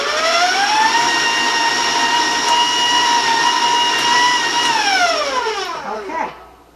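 A stand mixer with a paddle beats apple spice cake batter, its motor whining loudly and steadily close by for several seconds before spinning down and stopping, with no talk over it.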